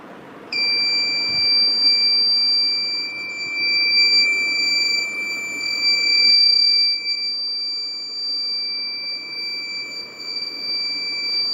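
A piezo buzzer in a homemade foil-strip rain alarm circuit, triggered by poured water, sounds a continuous shrill high-pitched tone that holds steady for about eleven seconds, loud and alone.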